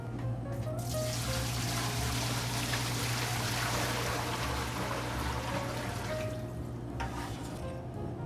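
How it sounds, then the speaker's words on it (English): Water pours steadily from a tap into a container for American-style pizza dough made with Caputo 00 Americana flour, a continuous splashing rush that starts and stops abruptly, with no voices. "First thing, we're gonna add the water."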